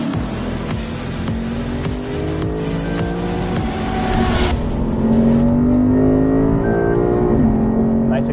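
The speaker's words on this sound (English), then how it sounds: "Nice acceleration. It's got a little bit more of a aggressive tone to it. That might be the titanium exhaust." A 2020 Lexus RC F with a titanium exhaust accelerates hard on a racetrack, engine pitch climbing through repeated gear changes with an aggressive loud tone, then settling into a sustained high drone.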